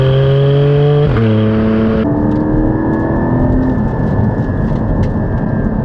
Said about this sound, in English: the exhaust valves are opening and closing, and it makes all these deep droney noises, good droney noises